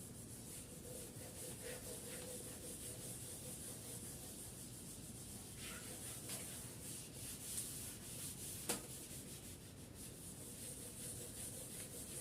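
Writing being rubbed off a classroom board with a duster, a steady, continuous scrubbing swish with a couple of faint knocks, close and moderately quiet.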